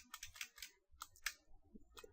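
A computer keyboard clicks through a quick run of faint, close keystrokes, a brief pause, then a few more isolated taps, while a command is typed.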